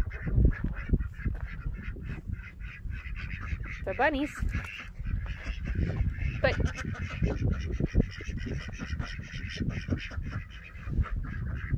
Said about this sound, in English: Are you just a happy duck?